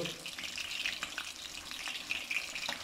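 Rahu fish fries in oil in a pan over a low flame, giving a soft, steady sizzle with faint crackles throughout.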